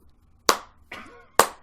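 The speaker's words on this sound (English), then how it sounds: "That was my slow clap" Three slow, deliberate hand claps, each sharp and crisp with a short decay and nearly a second between them, heard close and alone with no talking.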